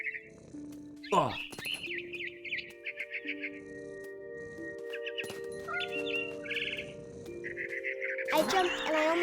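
A bird in What Remains of Edith Finch gives short, bright chirps in scattered bursts over sustained game music, fairly soft and close.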